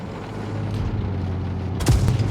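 A single deep cannon blast from a tank in a video game booms out over a steady low engine rumble, with a brief echoing tail.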